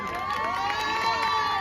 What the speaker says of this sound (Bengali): দাদার জন্য জোরে হাততালি সবাই মিলে।